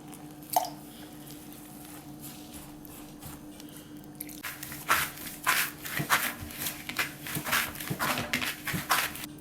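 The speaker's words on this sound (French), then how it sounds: "J'ai fini de pétrir ma pâte" Hands knead homemade tortilla dough of four flours, water and olive oil: faint, sparse squishing at first, then from about four seconds a busier run of close, irregular squelches and soft slaps, with no one talking.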